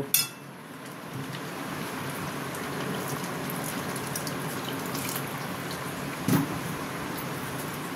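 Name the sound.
water poured into pan while cooking kasha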